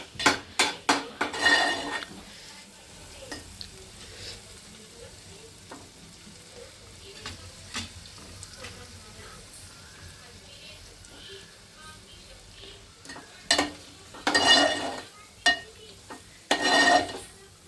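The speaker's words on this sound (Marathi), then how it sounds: "नीट फ्राय करून घ्यायचा तेलामध्ये। त्याच्यात टोमॅटो ऍड करूयात आपण।" Tomatoes frying in oil in a pan for a prawn curry, a low continuous sizzle broken by loud bursts of a spatula scraping and clattering against the pan at the start and again near the end.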